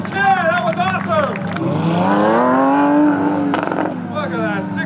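A Lamborghini 6.5 liter V12 sports car of nearly 700 horsepower at a Brands Hatch track demonstration, its engine rising in a loud howling rev while a commentator talks over it.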